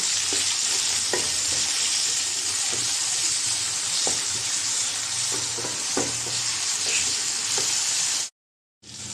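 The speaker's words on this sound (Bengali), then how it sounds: "চিংড়ি মাছ, কাঁচামরিচ, হালকা করে ভেজে নেব।" Shrimp, green chilies, chopped onion and garlic frying lightly in oil, a steady close sizzle with occasional soft clicks of a spatula stirring, no talking, ending in a brief silence.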